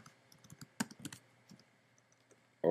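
A computer keyboard is used to type a URL: soft, scattered key clicks in short irregular bursts, quiet and close, with a louder clack right at the end.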